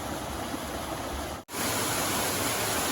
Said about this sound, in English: this is the first of 3 waterfalls